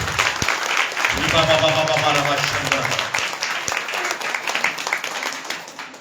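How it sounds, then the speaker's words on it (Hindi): A church congregation at an Assemblies of God service claps in praise, a dense burst of applause rising at once and holding steady under a continuous musical backdrop, then tapering as people settle. "ताली बजाकर प्रभु की महिमा।"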